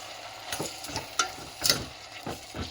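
Tomatoes frying in a pan for tomato rice bath, with a soft sizzle under a series of scraping stirs and spoon clinks that come in irregular bursts, close by and moderately loud.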